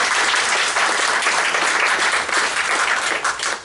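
Audience applause at a public meeting in Birmingham, a sustained dense wash of many hands clapping close by throughout, with no speech over it.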